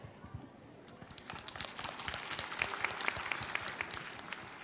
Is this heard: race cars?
no